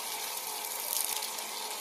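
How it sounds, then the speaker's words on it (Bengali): Water poured to water a plant, a steady close splashing rush with a bright hissing texture, continuous throughout. "তুমি গাছে জল দিচ্ছ মা?"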